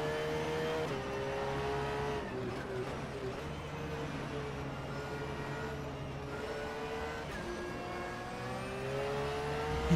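Race car engine in rFactor 2 at the Oschersleben circuit, a steady loud drone with harmonic whine rising and falling through gear changes, continuous across the lap with no pauses.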